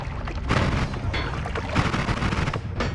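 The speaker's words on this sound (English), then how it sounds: "That's an explosion." Explosions in the video game Noita erupt as a dense burst of booming, crackling blasts that keep rumbling for about three seconds, loud and without any talk.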